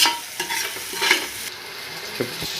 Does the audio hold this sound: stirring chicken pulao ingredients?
yes